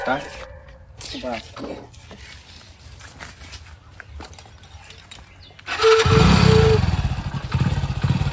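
After several seconds of people talking, a motorbike engine starts and runs loudly and steadily, a close, rumbling roar with a raspy, noisy edge that holds to the end.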